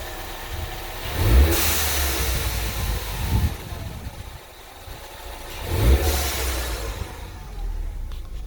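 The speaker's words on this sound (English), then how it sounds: "I wanted the engine to calm down a little bit, the RPMs to drop so you can" A Ford Mustang engine fitted with a blow-off valve idles with a low rumble, rising twice into revs with a hissing release afterward, close and fairly loud with no talk.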